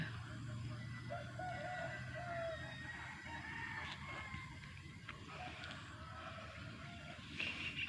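Chickens and a rooster at a rural homestay in Wakaf, Malaysia, cluck and crow faintly in the distance over quiet morning ambience, with a soft murmur of background noise throughout.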